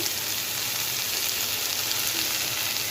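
Vegetables and vermicelli sauté in a hot pan for vegetable semiya upma, giving a dense, even sizzle and crackle throughout, close and steady, with no speech.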